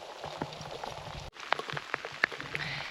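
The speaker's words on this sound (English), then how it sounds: "We are here on a very rainy day" Rain falling at a boat-access campsite at Bishop Bay Hot Springs in British Columbia: a steady patter with sharper drops hitting surfaces nearby, briefly cut off midway, then continuing with distinct close drips.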